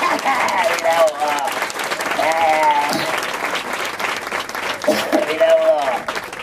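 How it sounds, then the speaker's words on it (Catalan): A live theatre audience at a comedy show breaks into applause, a dense wash of clapping with voices shouting and talking over it throughout. "Un aplaudiment, per amor de Déu."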